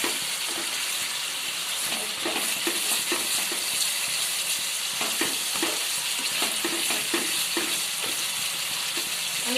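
Paneer, cashews and raisins go into a pan of cooked-down homemade masala, which gives a loud, continuous sizzle broken by frequent scraping and clinking as a spoon stirs through it.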